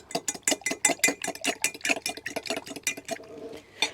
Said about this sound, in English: Just going to whisk that round